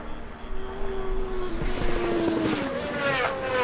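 Helicopter flying overhead at the Isle of Man TT motorcycle road race, a steady engine drone with a rising tonal whine blended with passing race machines, loud and continuous throughout.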